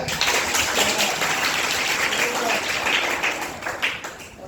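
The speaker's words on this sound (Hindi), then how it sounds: "ताली बजा।" Students clap their hands together in a classroom, a dense and steady burst of applause that fills the whole stretch. It is fairly loud and continuous, with no clear individual claps standing out.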